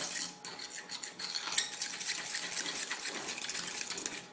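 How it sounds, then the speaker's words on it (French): A utensil stirs a tarte flambée topping mixture in a bowl, giving a steady run of quick scraping and clinking strokes, close and moderately loud. "Vous mélangez pendant environ 1 minute, 1 minute 30."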